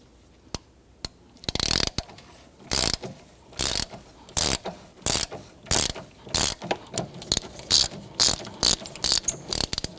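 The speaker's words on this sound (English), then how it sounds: "you can use your ratchet like I'm doing" A hand ratchet loosening a bolt on a 2011-2015 Kia Sorento gives loud, close bursts of rapid clicking that repeat in quick strokes for about ten seconds, with no voices.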